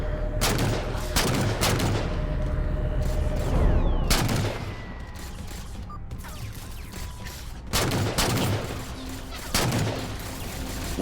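Rapid gunfire from the video game Halo 4 crackles in repeated loud bursts, sharp volleys separated by brief lulls, with dense shots around the start, middle and end.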